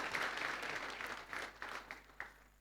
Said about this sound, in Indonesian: Ya boleh beri tepuk tangan.